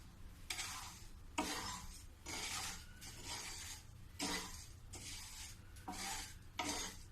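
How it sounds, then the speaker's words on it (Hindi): Dry sugar melting in a pan without water is stirred in rhythmic bursts of scraping and rasping, each stroke lasting about a second with short pauses between, faint and close with no talking. "अब मैं इसको चलाऊंगी।"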